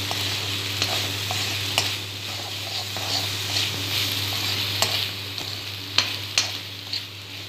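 Drained pasta stirred in a hot pan for cheese pasta, a steady sizzle with scraping spoon strokes and soft clicks of utensil on metal running throughout, close and continuous, no voices.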